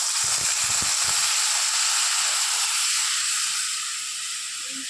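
Water is poured into a hot pan of fried taro stolons with mustard, giving a loud, steady steaming hiss and sizzle that fades slightly toward the end, with no voices.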